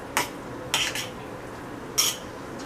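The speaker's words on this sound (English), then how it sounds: "So I'll put the lid back on here" A metal lid clatters onto a cooking pot of simmering saltfish with vegetables and butter beans, several sharp clinks in short succession at close range, with quiet moments between.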